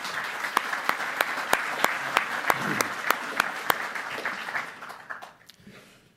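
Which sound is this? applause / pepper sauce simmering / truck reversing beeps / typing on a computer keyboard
applause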